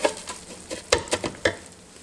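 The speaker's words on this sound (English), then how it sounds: "Now we're just going to saute this until it starts to get brown." Rice pilaf mix sautés in a Ninja Speedi, with soft scraping stirs and light clicks of the spoon in an irregular rhythm over a gentle sizzle, close and moderately loud.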